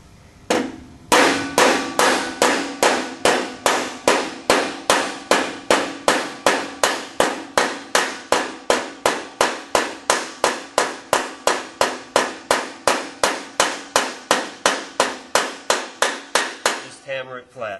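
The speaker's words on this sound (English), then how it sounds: "Hammer it flat." A flared tube end being hammered flat on a flat surface, a long run of sharp, evenly spaced metallic blows, loud and close, with no voices.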